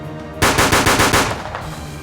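Rapid burst of about six loud, close gunshots from a silver Peacemaker revolver, fired in quick rhythmic succession and then ringing out.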